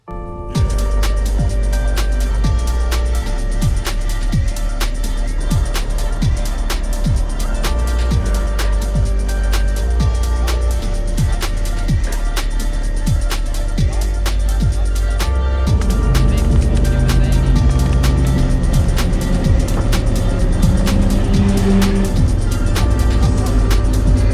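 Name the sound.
cars driving fast on country road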